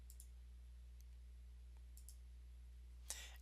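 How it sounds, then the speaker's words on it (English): Several sharp, light clicks from a computer mouse, two faint pairs early and a louder one near the end, over a steady low electrical hum. "click on the Home tab"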